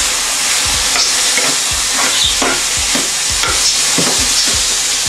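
Onions frying in a pan while being stirred for a sucuk wrap, a steady bright sizzle with repeated soft scraping strokes of the spoon at a regular pace, close and without talk.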